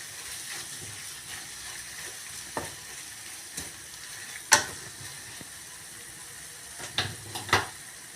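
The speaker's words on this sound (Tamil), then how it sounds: "இது கலந்து விட்டு ஸ்டவ் ஆஃப் பண்ணிடலாம்" Brinjal chutney mixture being stirred in a pan on the stove, faint low sizzling with a few sharp scrapes and clinks of the spoon against the pan, no talking.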